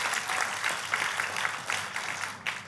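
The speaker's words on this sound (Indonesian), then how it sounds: "Kasih tepuk tangan yang paling meriah buat Tuhan kita." A church congregation claps together in praise, a quick burst of fairly distant applause with uneven rhythmic peaks, heard briefly on its own without any voice on top.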